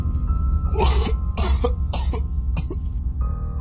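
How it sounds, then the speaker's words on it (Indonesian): Coughing from a ghostly pocong figure, a series of four or five harsh, raspy coughs spaced apart in close, loud succession, with a low rumbling drone underneath and no talk. "Terkuaklah juga suara batuk yang memang berasal dari wujud bungkusan putih itu"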